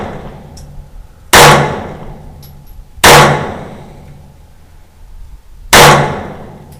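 Three loud, sharp handgun shots from a concealed-carry pistol at a shooting range, spaced irregularly over several seconds, each with a quick decaying ring and no talking.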